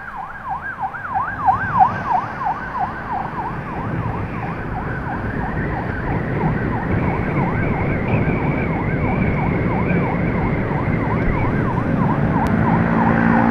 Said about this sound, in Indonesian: Oke, jadi di depan nih ambulans dari RSU Arova yang bakalan kita bantu,